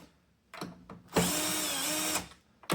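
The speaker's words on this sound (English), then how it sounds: "I'm gonna go ahead and finish unscrewing this" A power drill or screwdriver removes screws from a PS5 console, with a couple of short bursts followed by a steady whirring run of about a second, then a final brief start.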